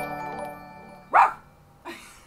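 A person voices an imitation of a dog barking, giving two short, bark-like yelps about a second apart, the first louder, after a stretch of steady low background tone.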